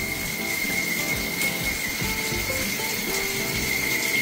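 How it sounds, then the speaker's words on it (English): A thin, steady high whistle from a shower head sits over a constant rush of running water, unbroken and fairly loud throughout. "Our shower is whistling."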